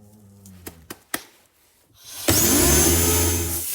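A DA sander with a 320-grit sheet starts up after a few faint knocks and then runs loud and steady with a whirring drone, working on a metal forming work table built from 2x4s.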